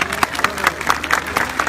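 A large crowd at an outdoor festival in Konya's Taşkent district applauds in a loud, steady wash of dense clapping, with sharper individual claps standing out.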